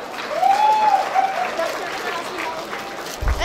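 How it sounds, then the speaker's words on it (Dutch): A studio audience applauds warmly as guests are called up at a Dutch talk event, a steady wash of clapping with a brief whistle-like tone early on, fading slightly toward the end. "En u mag voor ze klappen, hoor"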